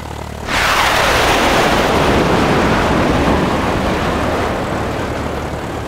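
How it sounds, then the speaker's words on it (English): Small airplane engine roaring to full power for takeoff from a runway, a loud broad rush that swells in abruptly and holds steady, close to the listener. "Runway 1 cleared for takeoff."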